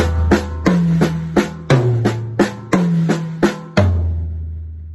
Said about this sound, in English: a compound sticking would be if I use double strokes instead of playing the hand-to-hand sticking